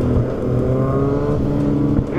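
Powerful sport motorcycle engine, a Kawasaki H2R or Ducati V4S, revving loudly and steadily close by on a night ride, the tone sustained with slight pitch shifts and a brief surge near the end.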